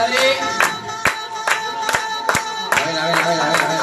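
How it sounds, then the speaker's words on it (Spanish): A crowd at a bike trial exhibition claps in rhythm, with sharp, evenly spaced handclaps about twice per second and loud whoops and cheers between them. "vamos a dar palmas"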